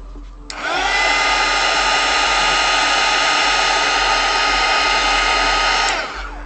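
A heat tool blows hot air onto paint, a loud steady whooshing whine that switches on abruptly and runs unbroken for about five seconds before cutting off, close and alone.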